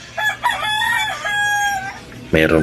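A rooster crows loudly and close, a long drawn-out call followed by a sharp burst of clucking at the end.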